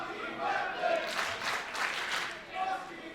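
Wrestling crowd at a Barrie show cheering behind a wrestler, a steady roar with swelling peaks of applause and shouts across the whole stretch, moderately loud and continuous.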